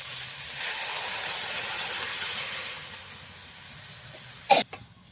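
Pre-boiled dal poured onto vegetables frying in a hot pan gives a loud, steady steamy hiss that slowly fades, ending with a brief sharp clank.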